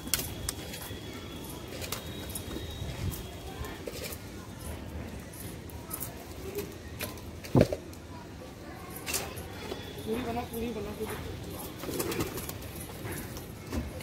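Pigeons coo softly in a rooftop loft, low repeated burbling calls heard faint and somewhat distant among light rustling, a brief clatter and occasional voices nearby.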